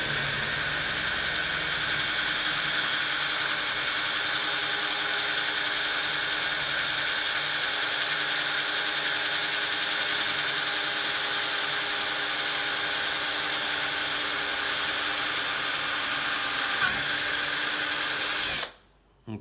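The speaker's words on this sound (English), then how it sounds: "So we need to drill now this one." A power drill bores into a vintage quick-release skewer in one loud, continuous high-pitched whine with a steady tone, cutting off abruptly at the end.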